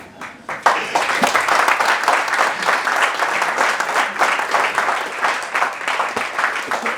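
A lecture audience breaks into sustained applause at the close of a talk, dense clapping that starts abruptly and holds steady and loud throughout, with no speech over it.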